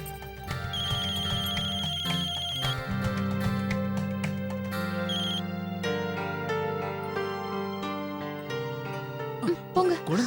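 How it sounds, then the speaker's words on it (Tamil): A mobile phone ringtone plays loudly and continuously as a bright melodic tune with sustained tones, filling the whole stretch inside a home setting, with no talk over it. "ஏற்கனவே மொபைல் சத்தம் போட்டு கத்துது"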